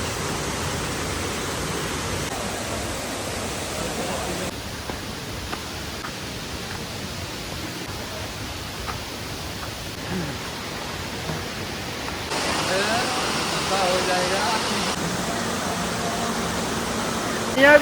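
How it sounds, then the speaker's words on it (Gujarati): Water falls at the Gupteshwar Mahadev temple waterfall on Pavagadh hill, giving a steady, broad rushing hiss that continues throughout and grows a little louder near the end. "આ રીતનો કંઈક ધોધ પડે છે ગુપ્તેશ્વર મહાદેવ મંદિરે."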